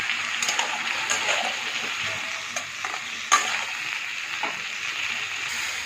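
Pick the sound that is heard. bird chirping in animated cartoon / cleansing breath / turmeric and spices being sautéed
turmeric and spices being sautéed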